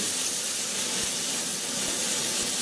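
Garlic sizzling in a hot pan for chicken and prawn paella, a steady close hiss of frying oil running continuously with no talk over it.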